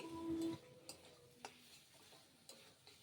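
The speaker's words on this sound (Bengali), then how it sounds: "এটা একটু মানে মশলার সঙ্গে ভালো করে নাড়াচাড়া করে নিচ্ছি" Fried potatoes being stirred with spice masala in a pan for a spicy pangas fish curry, a few scraping strokes and taps of the spoon over a faint sizzle, close and fairly quiet.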